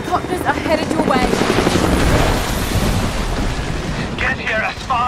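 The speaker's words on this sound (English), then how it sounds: "Jacob, helicopters are headed your way." In Rise of the Tomb Raider, approaching helicopters make a loud, steady rotor roar with rumbling engine noise, while shouted voices break in over it.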